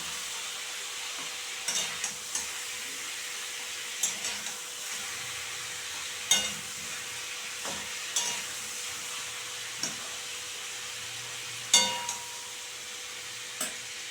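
Chicken pieces frying in mustard oil with a faint steady sizzle, broken by sharp clinks of a spatula against the pan every second or two.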